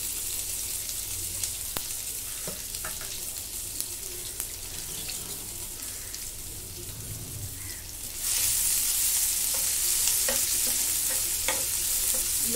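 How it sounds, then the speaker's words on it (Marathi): Crushed garlic sizzles in a hot pan while being stirred, a steady frying hiss with occasional scraping taps, growing louder and brighter partway through, with no voices. "लसूण जरा परतून घेते।"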